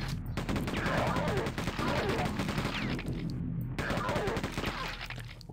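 Rapid gunfire in the video game Quake II RTX rattles in dense, continuous bursts, loud and close, with brief pauses, while someone talks over it.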